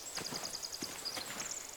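In The Walking Dead video game, a horse's hooves clip-clop in a light, regular rhythm, with faint, bright tapping steps running throughout at moderate distance.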